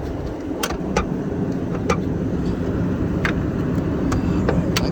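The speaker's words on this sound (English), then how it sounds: "So the motor sounds healthy." A 2003 Lexus LX470 engine running at idle with the hood open, a steady, close, even hum and rumble with faint ticking and small clicks over it, no talking.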